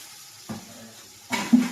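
Oil hits a hot pan with a soft sizzle at about half a second, followed by a louder frying hiss and a clink of cookware near the end, short and close.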